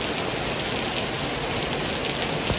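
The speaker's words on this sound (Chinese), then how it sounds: "这雨太大了，我的天呀" Heavy rain pours steadily during a storm at a campsite, a dense, loud, continuous hiss of drops hitting surfaces, with no talk.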